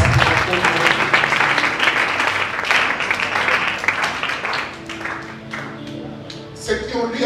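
A church congregation applauds at an evening worship gathering, with dense, sustained clapping and a crowd of voices mixed in throughout.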